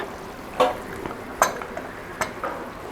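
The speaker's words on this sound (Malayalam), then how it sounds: "നമുക്കൊന്ന് ഇളക്കി നോക്കാം നമുക്ക് അതിൻ്റെ അകത്തോട്ട്" A spoon stirs beef curry gravy in a pressure cooker pot, making four or five soft, sharp clinks against the metal at irregular intervals over a faint kitchen background.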